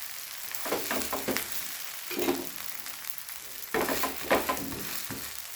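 A dosa cooks on a hot griddle with a soft, continuous sizzle, broken by several brief scraping, crackling bursts as it is worked with a spatula, fairly quiet and close.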